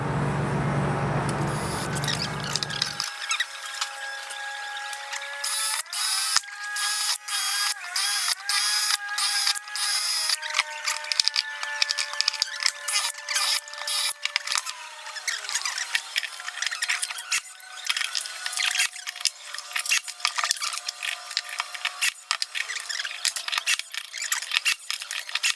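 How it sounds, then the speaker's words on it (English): A power drill whines in repeated short bursts, transfer drilling holes through aluminum aircraft elevator ribs with steady pauses between holes, close and fairly loud. "you have to transfer drill all of these holes through the rib on both ribs"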